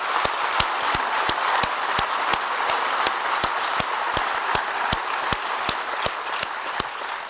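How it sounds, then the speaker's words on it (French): An audience at a theatre opening ceremony applauds, with a steady wash of clapping and sharp, evenly spaced rhythmic claps punctuating it like a unison beat. "je souhaiterais vraiment qu'on les applaudisse tous ensemble"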